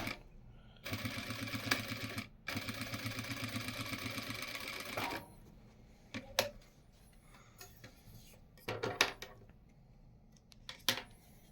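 An industrial straight-stitch sewing machine run by its foot pedal gives one loud, rapid, continuous burst of stitching for about four seconds. A few shorter whirs and mechanical clicks follow, close by, with no talking.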